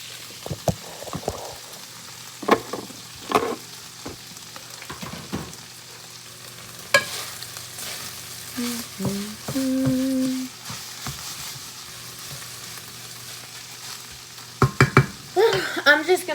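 Hamburger meat, sausage, onion and garlic fry in a pan, with soft sizzling and scattered sharp scrapes and clacks of stirring, plus a brief tonal beep midway.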